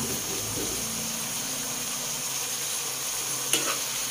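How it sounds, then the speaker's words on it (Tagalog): Fried tofu, chicken and saba banana being stirred in a pan over steady low sizzling, with gentle scraping early on and one sharp utensil knock near the end, fairly quiet and close. "Haluin po ulit natin."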